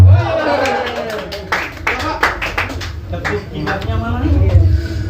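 Scattered clapping from an audience at a literary debate, a few distinct claps sounding near and irregular over murmuring voices and background talk.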